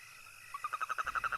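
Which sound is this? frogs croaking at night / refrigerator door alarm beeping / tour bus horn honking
frogs croaking at night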